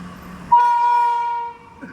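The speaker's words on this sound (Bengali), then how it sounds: "কাঞ্চনকন্যা এক্সপ্রেস যাচ্ছে, শিয়ালদা যাচ্ছে।" The Kanchankanya Express passenger train passes a railway gate in North Bengal, sounding one long, loud horn blast lasting about a second, close by, then fading into a quieter rumble.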